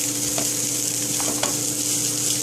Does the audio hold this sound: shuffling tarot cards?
no